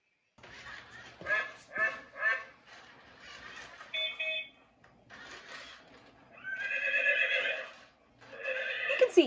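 A Dash robot plays a sequence of sound effects: three short quacks, a brief horn honk, a pause, then two long whinnying horse neighs, all fairly clear and close with silent gaps between.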